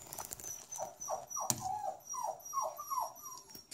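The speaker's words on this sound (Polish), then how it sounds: "Chyba pies czeka na barszczyk." A dog in a home kitchen gives a string of short, high whimpers, about eight soft whines rising and falling in a steady rhythm, fairly quiet and nearby, with no talking.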